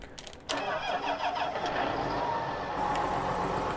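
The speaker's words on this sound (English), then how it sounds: "Also, I love how this tractor sounds, and just a really, really cool piece of equipment." A John Deere 8530 tractor engine turns over and catches, then settles into a steady, close rumbling idle that runs without a break.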